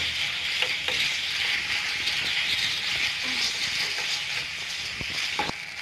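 Onions fry in oil in a pan for palak paneer, giving a close, steady hiss and sizzle with occasional small clicks and stirring scrapes and no voices.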